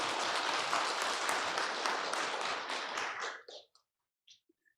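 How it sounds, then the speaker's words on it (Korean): A church congregation applauds loudly and steadily for several seconds, then the clapping tapers off into a few scattered claps and quiet. "힘찬 축복과 격려의 박수를 좀 보내주시면 좋겠습니다"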